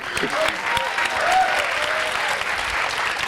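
An audience at a French evening show gives a sustained round of applause, dense and steady throughout, with a few whistles or cheers poking through and a voice faintly under it.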